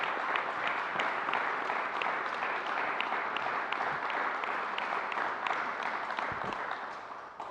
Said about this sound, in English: Let's give Ms. Lewin another round of applause for getting it done.